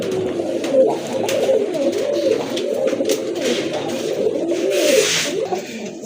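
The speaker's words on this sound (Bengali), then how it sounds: "টপ লেভেলের এক জোড়া কবুতর" Steady, throaty cooing from pigeons fills the scene, continuous and fairly close, with overlapping low warbling calls and no speech.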